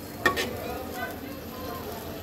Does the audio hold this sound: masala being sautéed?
yes